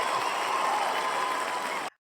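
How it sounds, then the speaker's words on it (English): Steady studio audience applause for a podcast guest, a dense even wash of clapping at moderate volume that stops abruptly near the end. "I didn't mean to cut off the applause"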